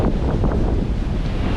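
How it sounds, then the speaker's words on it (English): Strong wind buffets the microphone on a bouldery beach while huge waves roll in, a loud continuous roaring rumble with surging swells and no voices. "It's really windy right now, so the waves are huge"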